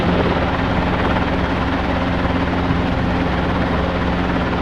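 A Robinson R22 helicopter holds a hover, its rotor and engine making a loud, continuous, steady drone from close by, with no voices.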